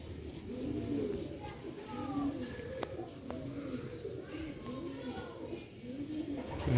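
Several grey Sialkoti rooftop pigeons coo in soft, repeated rolling calls close by, with a faint murmur of background noise and an occasional sharp click.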